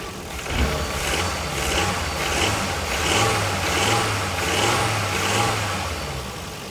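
A Volvo V50 T5 engine with its stock intake running steadily near idle, a close, even low drone with gentle periodic swells in pitch, heard alone.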